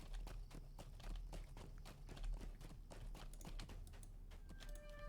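Horse hooves clip-clop in the online game Lord of the Rings Online, a steady, even trot of crisp, close hoofbeats that runs continuously.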